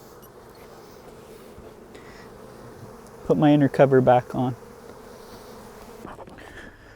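A dense, steady buzz of many honey bees outside a hive as frames are shaken during a split fills the background throughout, with a person speaking briefly partway through.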